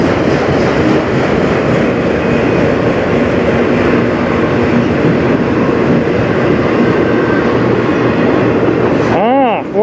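A CN freight train rolls past on the Strathroy Sub, a loud, close, continuous rumble of wheels and cars with clickety-clack, ending in a brief squeal near the end.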